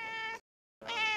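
Two clear meows from a cat indoors, close and fairly loud, separated by a short silence, with no talking.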